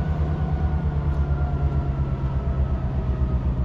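Chesapeake and Delaware RP-2 freight cars being worked and coupled at Rockport Yard in Hackettstown, New Jersey, producing a steady, close, heavy low rumble with faint metallic rail tones and no voices.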